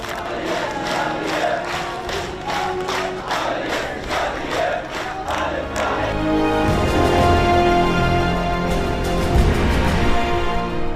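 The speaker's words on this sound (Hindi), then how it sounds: "जो लोग लाशों को दफनाने आए थे वो तालियां बजाकर नारे लगा रहे हैं" Mourners at a burial in Gaza clap in unison and chant slogans, with sharp rhythmic claps over massed voices at first, then a louder, rolling crowd chant taking over in the second half.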